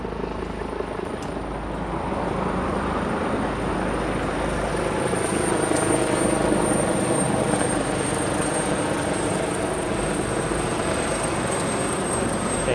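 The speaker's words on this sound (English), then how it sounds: "I believe, one of the orange medical choppers." Orange medical helicopter passing overhead in Toronto, a steady broadband rotor and engine roar holding at a constant level throughout, heard alongside street noise.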